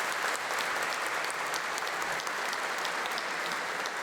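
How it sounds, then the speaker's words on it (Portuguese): Congregation at a Catholic Mass applauding after the Gospel reading: dense, steady clapping from a large crowd, even and sustained throughout with no voices over it. "Uma salva de palmas à palavra."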